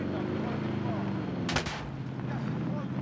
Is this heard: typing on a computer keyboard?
no